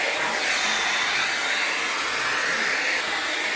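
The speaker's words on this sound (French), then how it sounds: "je passe à la brosse lissante" A heated smoothing brush runs steadily while drying and straightening hair, giving a continuous loud airy whir like a hair dryer, close by and alone, with no pauses over the few seconds.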